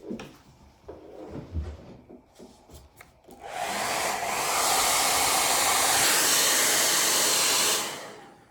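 Some light knocks and handling clatter come first, then a hair dryer blows on a watercolor painting, a loud, steady rushing hiss lasting about four seconds before it fades out.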